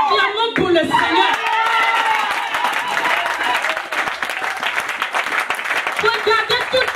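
A church congregation bursts into sustained applause with scattered cheers, loud and continuous, while a preacher's voice carries over it.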